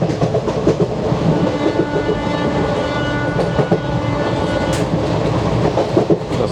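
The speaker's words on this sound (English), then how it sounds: "The sound of the horn and the track sounds." Steady clatter and rumble of wheels on rail from inside a vintage ICF coach on the Amritha Express, hauled by a WAP4 locomotive, with rhythmic clickety-clack over a dense, loud roar and a brief high whistle-like tone.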